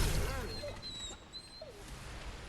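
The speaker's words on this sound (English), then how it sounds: "I hate when they add realistic dog dying sounds into a game" A dog's high, wavering whimpers and yelps from a dying dog in Remnant: From the Ashes, a few thin, pitiful cries over a low rumbling game background, with someone talking at the start.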